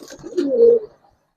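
A single close Giribaz pigeon coo, aluminium silver colouring, a short throaty rolling call rising then falling over under a second, clear and loud against a quiet background with no talking.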